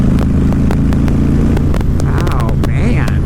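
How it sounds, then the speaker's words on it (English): Honda Fury chopper-style motorcycle engine revving as the throttle is rolled on, a loud, deep continuous rumble with rising pitch sweeps and some passing clatter. "just the feel of the bike and the sound when you're just rolling on throttle"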